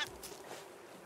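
Brief squawk of a seabird in the survival game Raft, a short harsh call close by, followed by a quieter breathy tail with no talk.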